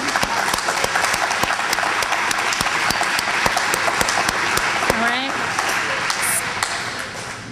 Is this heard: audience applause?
yes